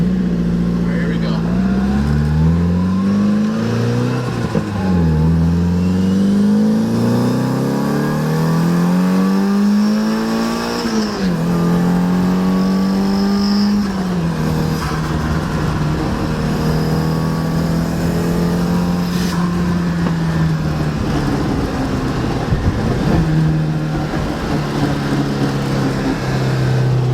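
An SR20-swapped Mazda FB RX7 on solid subframe mounts pulling hard from inside the cabin, its engine note climbing through several gears with shifts and drops, loud and continuous, with occasional voices beneath.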